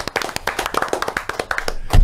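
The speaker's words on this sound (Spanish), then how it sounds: "Un aplauso a mi gente del Garden." A small audience claps in quick, uneven bursts close by, sharp individual hand slaps overlapping for about two seconds before a low thump at the end.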